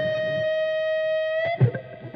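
An electric guitar played through distortion holds a sustained, buzzing note, then bends it legato and cuts it off in a short burst of gritty attack near the end. The tone is loud and steady, with no voices.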